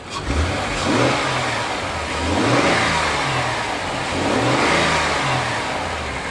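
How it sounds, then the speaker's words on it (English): A Nissan Armada engine at a salvage auction lot is revved in three smooth swells, rising and falling back toward idle between each, loud and close with no one talking. "Let's give it a little rev."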